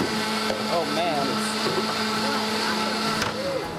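A Breville JE98XL juicer runs at home, a constant loud motor whine with a steady hum throughout while people talk faintly over it.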